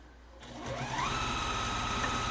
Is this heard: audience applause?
no